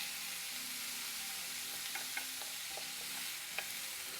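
Ground beef sizzles and fries in a hot pan, a steady close hiss with faint crackles and a few soft pops, with no voices.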